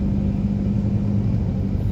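Road traffic in Manila, a continuous low rumble of car engines heard from inside a vehicle, steady and fairly loud with no talk.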